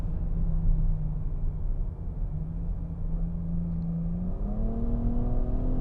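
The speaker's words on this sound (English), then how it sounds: "Oh, those are not exciting gear shifts at all. Those are the least inspiring gear shifts I've felt this year" Nissan Rogue with an automatic transmission heard from inside while driving: a steady engine drone holds, dips through a soft gear change, then climbs in pitch as it picks up speed, with no talking.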